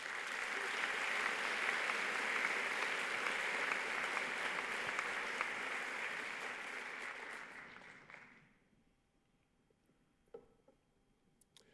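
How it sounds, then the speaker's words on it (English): Applause from the audience at a city address honoring the Treasure Valley Partnership's mayors and county commissioners, a thick steady wash of clapping that tapers off near the end, leaving near silence with a few faint knocks. "Let's join me in thanking, with a round of applause, all the members of the Treasure Valley Partnership"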